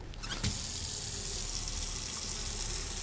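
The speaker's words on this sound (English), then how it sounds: "Fill the bucket with water." Water runs steadily from a tap into a bucket in the video game Autopsy Simulator, a continuous close hiss of filling that carries on without a break, with no talking.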